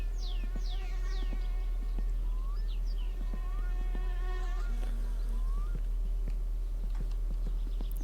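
Mosquitoes whine and buzz throughout in the video game My Summer Car, with repeated rising insect tones over a steady low hum and scattered faint clicks and taps; no one speaks.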